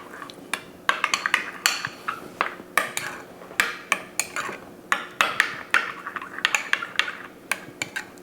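Utensil stirring shrimp cocktail sauce in a bowl, a quick series of light clinks and taps against the dish in an irregular rhythm, close and fairly quiet.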